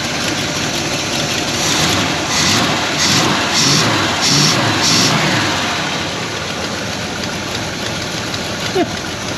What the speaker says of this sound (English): It's just sitting here idling.